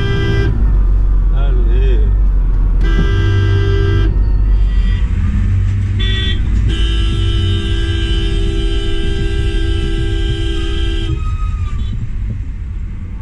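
Congested Indian road traffic, loud and close, with repeated car horn blasts including a long sustained honk, over constant engine rumble; a voice speaks briefly.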